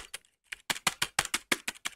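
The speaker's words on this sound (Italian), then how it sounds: "La tastiera invece è buona, è comoda, ha una sensazione di plastica" Plastic keyboard of a Toshiba Satellite Click Mini laptop being typed on, about a dozen crisp, close clacks in an uneven rhythm after a brief pause, with no speech.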